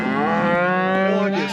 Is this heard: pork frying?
no